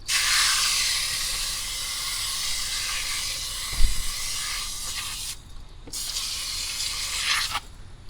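A hose sprays water across the top of a Bissell TurboClean DualPro Pet carpet cleaner, a loud steady hissing spray that breaks off briefly twice near the end, with no speech.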